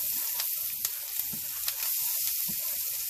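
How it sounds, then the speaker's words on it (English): A garlic and onion mixture sizzles softly in a pan on the burner as it is stirred. A few light scrapes and taps of the spoon sound over the quiet frying hiss. "let's mix this all together now"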